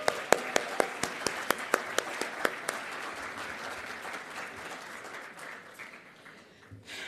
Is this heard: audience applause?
yes